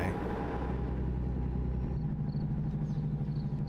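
A truck engine in a video game runs with a steady low rumbling drone and slightly uneven throttling, continuous and fairly loud with no talk.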